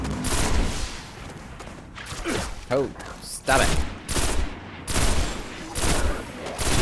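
Enemy gunfire from a large-gunned colossus in a video game rattles in repeated loud bursts separated by short gaps, with a player's voice speaking briefly between volleys.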